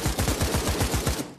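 Full-auto gunfire at a shooting range, fired sideways, comes as one rapid burst of about a dozen loud, evenly spaced shots heard close up, lasting just over a second before cutting off.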